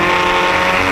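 Historic Formula Ford race cars scream past on the Brands Hatch circuit, a loud, continuous high-revving engine howl with a brief hint of tyre noise, filling the whole burst.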